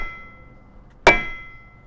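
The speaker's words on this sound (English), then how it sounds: "I use this dead blow hammer because it won't bounce." A dead blow hammer strikes a metal stamp on leather for a holster, giving one sharp, solid, non-bouncing thud close by, with quiet surroundings before and after.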